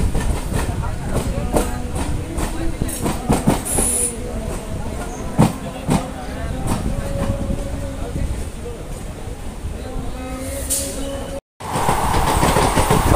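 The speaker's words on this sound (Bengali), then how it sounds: "স্টেশন থেকে ট্রেন ছেড়ে বেরিয়ে এসছে" A Barddhaman–Asansol local passenger train pulling out of the station, with steady wheel rumble, rhythmic clickety-clack over rail joints and faint hiss, continuing for several seconds as people talk nearby.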